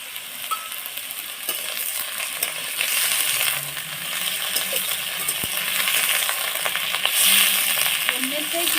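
Soft snake gourd frying in a pan, a steady close sizzling hiss with crackles and occasional clinks of stirring, and a faint voice talking underneath.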